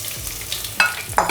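Onions dropped into hot oil with cinnamon, star anise and bay leaf for chicken kheema biryani, giving a soft background sizzle and two sharp bursts of frying as pieces hit the pan, close and without talk.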